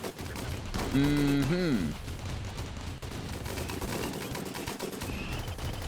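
Defensive turrets open fire on enemies in a colony survival game, a steady crackle of gunfire running under game music and talk, with a short bird-like chirping tone early on.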